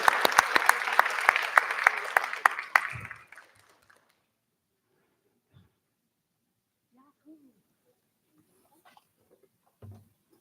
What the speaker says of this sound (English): Another round of applause for Victoria.